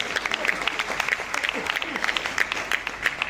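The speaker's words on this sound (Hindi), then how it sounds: "एक बार चाहूंगा कि महिला शक्ति के लिए उस तरफ से भी एक बार जोरदार तालियां, जोरदार।" A crowd at a community hall award ceremony for student toppers claps vigorously, individual hand claps standing out in a quick, lively patter that holds steady throughout, with faint voices mixed in.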